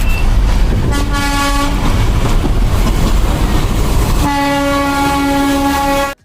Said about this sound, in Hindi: रास्ते में हमें टॉय ट्रेन दिखी।